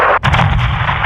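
Heavy 40 mm cannon fire in the video game Modern Warfare 2: loud, dense booming blasts roll together into a sustained barrage, with a brief dip near the start.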